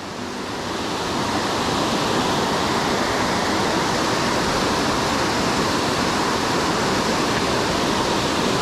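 Wild cascades and a waterfall at Hickey Fork Loop roar in a loud, unbroken rush heard from near the base, swelling in the first second and then holding steady with no voices.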